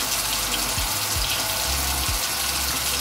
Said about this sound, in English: So I'm gonna pour some water over my face